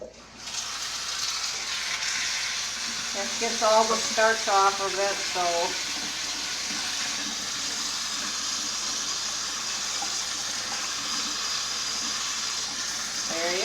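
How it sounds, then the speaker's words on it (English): Cold water from a tap runs steadily over drained noodles in a strainer, a constant hissing splash under a person talking briefly, with a short bubbly gurgle near the start. "I'm going to run some cold water on it"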